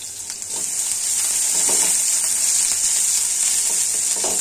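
Onions dropped into hot oil in a pan, the sizzle jumping up after a quiet start and then holding as a loud, dense, continuous hiss with faint crackles.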